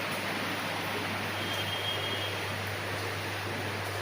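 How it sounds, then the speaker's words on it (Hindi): Heavy rain falling steadily outside a house, a dense continuous hiss that stays even and fairly loud from start to end, with no talking. "पूरी बारिश चल रही है।"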